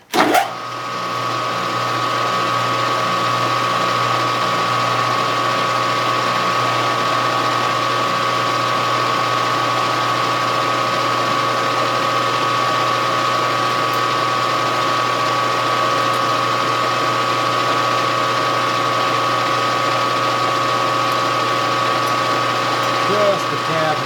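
A drill on low speed countersinks holes in the bottom plate of a Kerzel gas tank, giving a steady, continuous mechanical whir with a ratcheting texture that runs close and fairly loud for the whole stretch.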